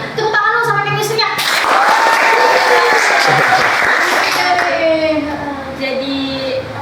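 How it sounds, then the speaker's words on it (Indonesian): A small audience at a high school student council talk applauds with a brisk, fairly loud patter of hand claps, with voices talking over and around it. "Tepuk tangan dong sama chemistry-nya."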